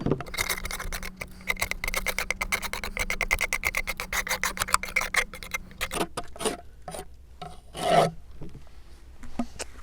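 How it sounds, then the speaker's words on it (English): Repeated rasping scrapes of a hive tool clearing wax burr comb from the top of an overwintered beehive nuc box, a fast steady run of strokes for six seconds, then slower separate scrapes and knocks, close and fairly loud. "I need to remove all of this burr comb"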